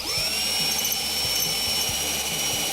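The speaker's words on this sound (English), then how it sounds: "Now we'll drill the 9/32 hole" A power drill bores a 9/32 hole while installing an UltraLatch, a steady high motor whine close up with a low rumbling chatter from the bit.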